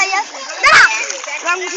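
Water splashing as someone ducks under during Holi, one brief close splash in the middle while voices talk, including a child's.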